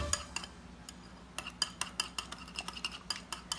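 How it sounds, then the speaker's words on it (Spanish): A whisk beating mozzarella cheese ball batter in a bowl until fluffy, like meringue, giving a steady run of quick, bright metallic clinks and taps close up, with no talking. "estoy batiendo para que, ¿verdad?, se haga como si fuera para un merengue."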